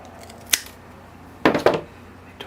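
Scissors cut through a grey bark elm bonsai root during repotting: one sharp close snip, then a pair of louder crunching cuts and a faint final click.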